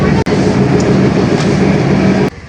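A train at Parbatipur railway station gives a loud, steady rumble with engine hum that holds evenly throughout, then drops off slightly at the very end.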